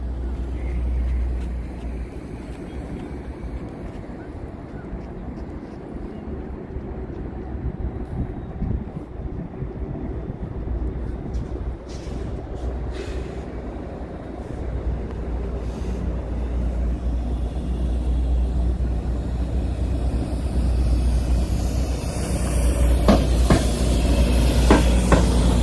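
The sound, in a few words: EXO commuter train passing, Mascouche train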